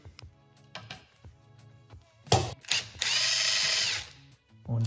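A 17 mm socket on a powered wrench works a nut on a Yamaha SR500 motorcycle engine during teardown: scattered close clicks and knocks, then a loud whirring burst lasting about a second, and a final short thud.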